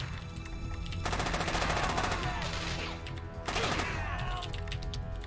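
Rapid video-game gunfire from Alcatraz: In the Harm's Way on PC, dense automatic bursts close and loud, breaking briefly before a second burst and crashing impact.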